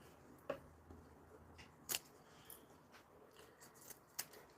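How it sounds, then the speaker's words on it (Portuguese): Scissors snip off the excess zipper ends on a handmade fabric zip pouch, giving several faint, sharp clicks spaced irregularly in a quiet room. "Vou cortar os excessos, rabicozinhos de zíper."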